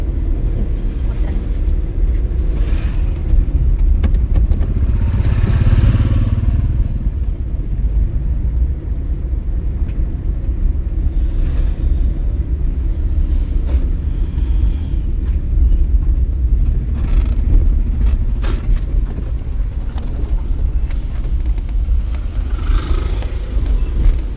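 A learner's car moves along in second gear during a driving lesson, its engine and road noise forming a steady, close, continuous rumble throughout, with no talking.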